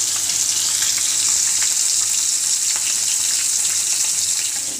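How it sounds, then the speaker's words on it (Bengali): Fish sizzle in hot oil in a pan, a dense, steady, close frying hiss that carries on without a break and has no voices over it. "আর মাছ ভেজে নিচ্ছি।"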